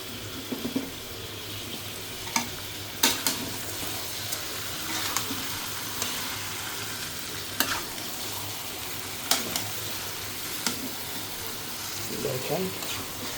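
Goat meat sizzles steadily in a kadai, broken by the sharp scrapes and knocks of a spoon stirring it every second or two. The cooking is close up and fairly quiet, with faint talk in places.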